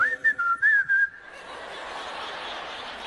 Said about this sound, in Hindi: आप बस यूं ही सीटी मारते हुए